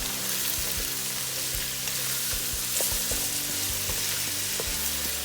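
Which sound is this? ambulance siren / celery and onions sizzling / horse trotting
celery and onions sizzling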